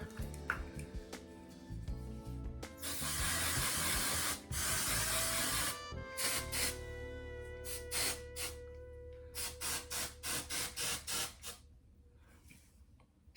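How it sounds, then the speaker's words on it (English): Black L'Oreal Magic Root Cover Up root-touch-up hair spray hisses in one long steady burst, then a string of short rapid puffs, close and loud with no talking. "we're gonna do a little bit of our black spray"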